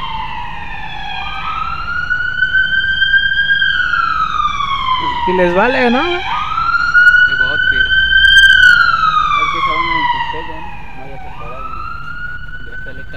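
A police patrol car siren wails up and down as the car passes close by on a night street. People talk over the siren.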